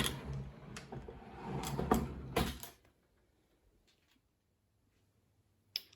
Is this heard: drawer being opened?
yes